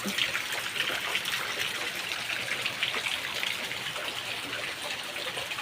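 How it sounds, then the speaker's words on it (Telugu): Dense, continuous hiss of heavy rain pouring down, steady and loud throughout, with no gaps. "వర్షం సౌండ్ వినిపిస్తుందా చూడండి"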